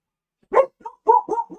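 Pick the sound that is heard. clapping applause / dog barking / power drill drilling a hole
dog barking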